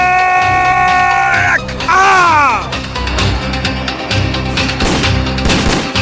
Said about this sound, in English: Cover them with gunfire.